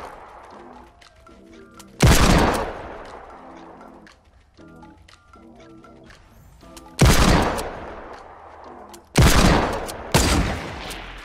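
Desert Eagle pistol shots ring out in a Fortnite battle royale match, three sharp, loud cracks spaced seconds apart, the last two close together, with quieter game sounds in between.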